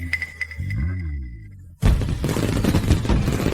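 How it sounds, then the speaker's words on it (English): Fireworks burst overhead with a sudden loud boom, then a dense, continuous crackling barrage that stays close and fills the rest, preceded by a low rising whoosh. "Fireworks."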